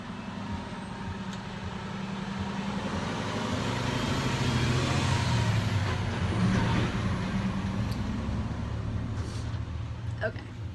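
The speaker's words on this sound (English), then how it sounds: "Big truck coming through." A big truck rumbles past outdoors, a broad low engine roar that swells toward the middle and fades, steady and fairly close, with a brief hiss near the end.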